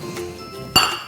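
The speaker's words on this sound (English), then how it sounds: "it kind of is hard to mix because it's like pizza dough" A spoon clinks against a bowl while stiff pretzel dough is mixed, with soft scraping and then one sharp, ringing clink close by.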